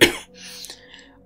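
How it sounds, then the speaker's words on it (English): A single sharp cough used as a sound effect in a spooky Halloween story reading, a short close burst that quickly trails off into a faint breathy tail. "Mason covered his mouth to cough"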